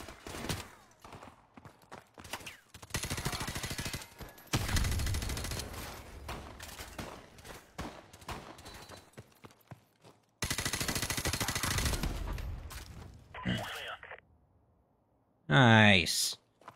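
Rapid automatic gunfire and bursts of shooting in the game Call of Duty: Modern Warfare Remastered, loud and sustained through most of the stretch with a sharp burst near the end, while players talk over it.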